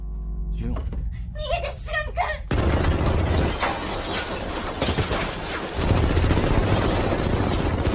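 Dense, loud bursts of gunfire crackle continuously after a brief quieter opening with a voice, sustained heavy shooting filling the rest of the clip.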